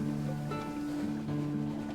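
A ship engine in the video game Sunless Sea hums with a steady low drone and throbbing tones over soft watery ambience, moderately quiet and constant throughout.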